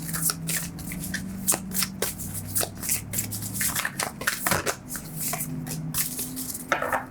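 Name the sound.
shuffling tarot cards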